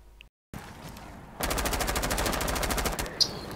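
Rapid automatic gunfire in the tactical shooter Siege bursts in after a brief quiet gap, a loud sustained rattle of closely spaced shots lasting about two seconds, then trailing off with a sharp single crack near the end.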